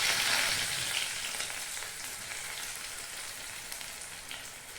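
Small onions sliced into rounds fry in hot ghee, giving a loud, even sizzle that is strongest at the start and then settles into a steady hiss with nobody talking.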